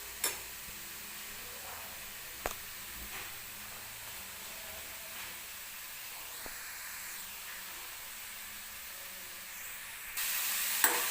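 Grated bottle gourd fries in ghee with a soft, steady sizzling hiss, close but faint, punctuated by a few light stirring clicks and a louder burst of sizzle near the end.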